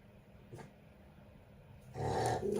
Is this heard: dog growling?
yes